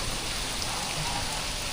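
Heavy rain at Siam Square, Bangkok, a dense, even hiss of downpour filling the surroundings, loud and steady with no voices.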